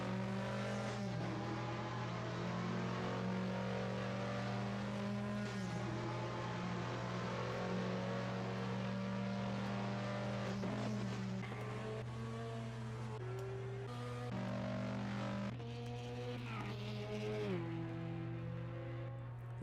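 Formula 3 race cars from the 1973 British F3 season scream loudly and continuously at a circuit, engines downshifting with sharp pitch drops and rising again as several cars race past close by.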